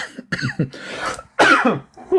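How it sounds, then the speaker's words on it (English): Several harsh, close coughs in quick succession, loud and throaty, with short pauses between bursts. "Pardon the cough."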